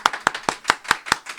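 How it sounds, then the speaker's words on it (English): Sharp, evenly spaced claps ring out about five times a second, loud and close, with no talking, as a small studio audience applauds during an interview show. "Clapping loud"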